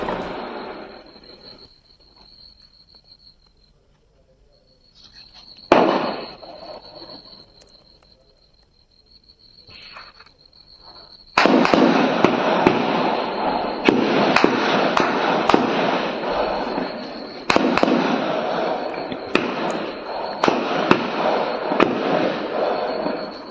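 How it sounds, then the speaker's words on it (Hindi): Gunfire during an attack on an army camp in Rajouri, Jammu and Kashmir, arrives as sparse distant cracks at first, then breaks into a dense, loud, sustained crackle of rapid shots with a steady high whine underneath. "यह फायरिंग की तस्वीर आपको दिखा रहे हैं"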